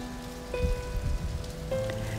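Light drizzle falls outdoors around a balcony garden, a soft continuous patter with faint tonal background hum and no voices.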